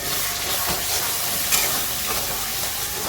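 Spice paste of turmeric, chili powder, sugar, cumin and coriander powder with spice water fries in a pan, giving a steady close sizzle and hiss with slight stirring scrapes, no voices.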